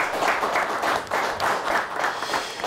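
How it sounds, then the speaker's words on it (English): Steady audience applause for the Onekama high school quiz team after a game against Whittemore Prescott, continuous and even with a dense patter of many hands, moderately loud. "So a nice round of applause for Onekama."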